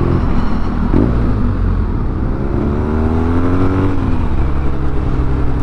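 A BMW R nineT motorcycle engine on an off-road ride, a loud, close, continuous rumbling drone whose pitch rises and falls slightly as the rider works the throttle, with no voices.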